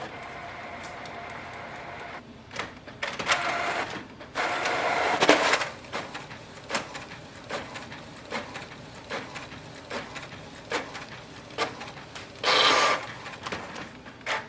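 A Canon Pixma G5020 inkjet printer runs a nozzle check page, its mechanism whirring, clicking and ratcheting in a string of short bursts, with a louder grinding stretch near the end and no voices.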